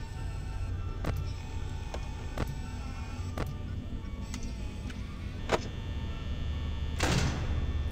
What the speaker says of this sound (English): Shutting the doors.